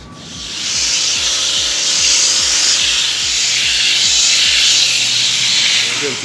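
Steady scrubbing of a brush on a car part during a low-cost Renault Megane track-car project, a close, hissing swish with rapid rhythmic strokes throughout.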